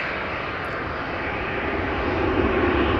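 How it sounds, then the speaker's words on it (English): A KLM airliner takes off from partway down a runway at Amsterdam Schiphol, its engine roar steady and broad, slowly swelling louder over a few seconds. "KLM is taking off, not from the threshold, but a bit further down the runway"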